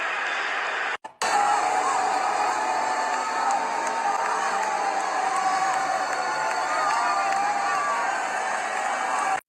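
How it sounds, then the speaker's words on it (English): A dense, sustained stadium crowd roars and boos at a Washington Commanders vs. Detroit Lions football game as President Donald Trump appears, the noise broken by a brief dropout near the start and then continuing loud and unbroken. "Tell me if you've ever heard a president booed this loudly in your life."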